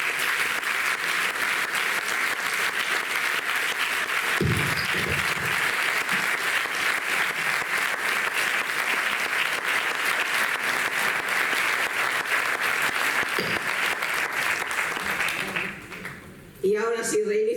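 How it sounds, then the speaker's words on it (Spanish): Prolonged, steady applause from a festival audience for the musicians, with a voice briefly heard near the end as the clapping fades. "un aplauso de parte vuestra para los músicos"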